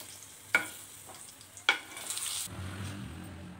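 Tomatoes dropped into hot oil in a pan, with two sharp clinks of a utensil against the pan, then a rising sizzle that grows into steady frying.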